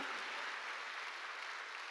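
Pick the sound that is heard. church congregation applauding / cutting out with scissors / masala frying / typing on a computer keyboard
church congregation applauding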